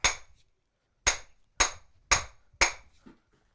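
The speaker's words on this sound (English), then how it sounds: "I'll just hit on the end like this, and because the hammer head is heavier than the handle will just tighten up" A handmade hammer is struck on the end of its handle to seat and tighten the head: five sharp, close knocks, one alone and then four evenly spaced after a pause, each with a brief ringing decay.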